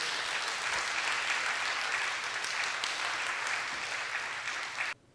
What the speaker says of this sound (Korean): 우리 열렬히 여러분 손뼉도 좀 세게 치시면서 열렬히 우리 목사님 환영하겠습니다